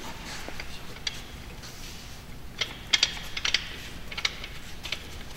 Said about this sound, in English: they give you a little needle valve to screw in here.